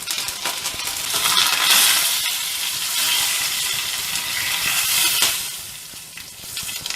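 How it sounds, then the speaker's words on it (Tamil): Mustard seeds, asafoetida and curry leaves fry in hot oil for a Tamil peanut rice, giving a steady loud crackling sizzle with sharp popping spatters all through. "அதில் கடுகு போட்டுக்கலாங்க"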